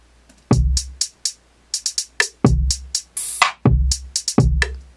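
A punchy drum beat with deep kicks and crisp hi-hats in a laid-back groove, with a short burst of noisy cymbal in the middle.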